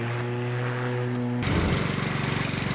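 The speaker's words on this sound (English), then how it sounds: "The Makita is really much easier to push around compared to my old petrol mower." A Makita DLM432 cordless lawn mower runs steadily while being pushed across the grass, with a close, continuous motor hum that turns rougher and louder partway through.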